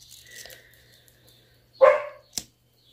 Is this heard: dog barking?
yes